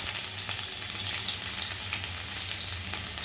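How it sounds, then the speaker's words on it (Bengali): Chopped crushed garlic frying in hot oil for a Bengali kalmi saag and potato dish, a dense, bright, continuous sizzle with no talk. "আর থ্যাতো করে এই রসুনটা তেলের ভেতর আমি দিয়ে দেব"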